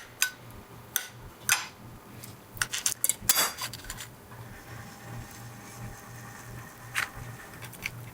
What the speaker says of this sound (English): slice your avocado